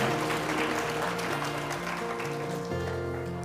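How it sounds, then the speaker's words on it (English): Synagogue congregation applauding the choir during a Rosh Hashanah service, steady clapping mixed with sustained organ or keyboard tones, fairly even and moderately loud. "How about a round of applause for our choir?"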